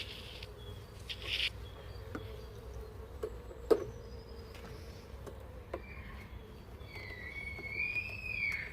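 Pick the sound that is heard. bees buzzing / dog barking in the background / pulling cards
bees buzzing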